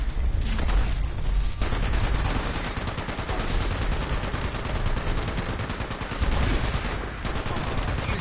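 Rapid automatic gunfire from the video game Fallout 76 crackles in dense, continuous bursts, loud and close, with brief gaps between volleys.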